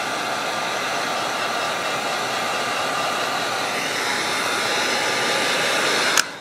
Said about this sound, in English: I'm going to grab the heat gun for this.